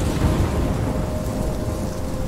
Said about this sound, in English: In the rain, in the hurricane. I'm trapped in a storm?